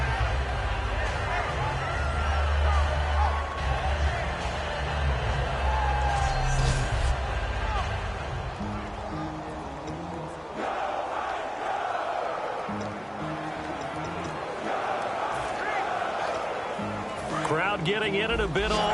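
Continuous roar of a video game football stadium crowd, a steady broad wash of noise throughout with swelling moments, running under commentary voices.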